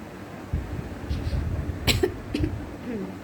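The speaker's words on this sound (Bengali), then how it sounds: "আমার একটু হালকা কাশি হয়েছে" A person with a mild cough coughs once sharply, followed by a smaller second cough, close to the microphone against a low indoor background hum.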